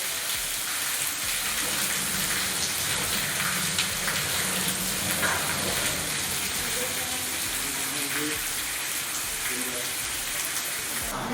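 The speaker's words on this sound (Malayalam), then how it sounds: "കനത്ത മഴയിൽ വെള്ളം കുത്തിയൊഴുകുന്ന ദൃശ്യം ഇപ്പോൾ കാണിച്ചു തരാം" Heavy rain sends water gushing and pouring inside the leaking new block of Mananthavady Medical College, a dense, constant rush of falling and splashing water that stays loud and unbroken throughout.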